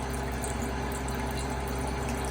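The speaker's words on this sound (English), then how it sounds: "We're gonna pour our chicken broth in the wok." Chicken broth pouring into a wok, a steady continuous liquid stream with an even rushing splash, close and alone without any talking.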